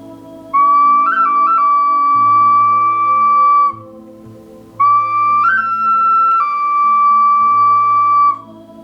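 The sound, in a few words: whistle blown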